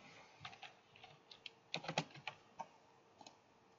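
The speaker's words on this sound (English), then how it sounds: "we're going to have to type this in" Quiet, irregular keystrokes on a computer keyboard, tapped out in short clustered bursts with small pauses between, close and alone with no talking.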